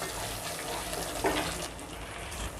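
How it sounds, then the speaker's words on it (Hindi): A glass of water poured into a simmering curry of spices, salt, garam masala and kasuri methi for watermelon rind kofta, a brief rushing splash against a noisy kitchen background. "1 गिलास पानी ऐड करेंगे।"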